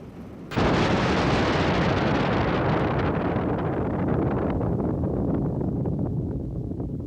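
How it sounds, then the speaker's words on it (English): A nuclear bomb explodes in mid-air: a sudden massive blast after a brief quiet moment, then a thick, sustained roar rumbles on for several seconds, slowly easing. "The first bombs were slung under a balloon and exploded in mid-air."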